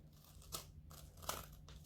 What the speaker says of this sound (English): I'm just using my Class 8 knife edge scissors for this.